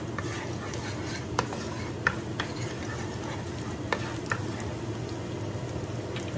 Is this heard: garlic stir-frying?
yes